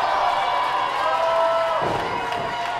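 A wrestling crowd at a 365 PW Combat event sets up a steady, dense roar of cheering and noise across the hall, with a mid-range swell near the end and no clear voices standing out.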